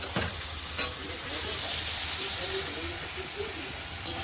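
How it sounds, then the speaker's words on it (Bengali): Potatoes and fried paneer sizzle and hiss in a hot pan while being sautéed and stirred, a continuous close frying crackle broken by a few sharp knocks of the spoon against the pan. "আলুটাকে দিয়ে ভালো করে কষাবো।"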